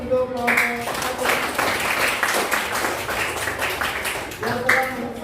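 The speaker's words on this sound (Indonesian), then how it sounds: "Beri tepuk tangan untuk kelompok 1" Classroom applause for a student group after a discussion presentation, a sustained wash of clapping from many hands lasting several seconds, with a voice speaking at the start and end.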